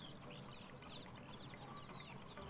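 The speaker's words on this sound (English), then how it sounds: "Lots of chickens over here." Chickens in the video game Pure Farming cluck and chirp faintly and continuously, many birds overlapping in a busy coop-like chorus.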